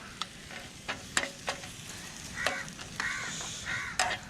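A crow caws repeatedly outdoors beside backwaters in Alleppey while curry cooks, its harsh calls coming in short bursts over a steady sizzle of frying food.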